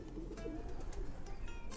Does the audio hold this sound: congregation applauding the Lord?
no